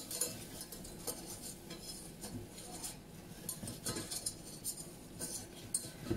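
Butter and flour stirred together in a pan for a béchamel sauce, soft repeated scraping and light metallic clinks of a utensil against the pan, fairly quiet and close, with no talking.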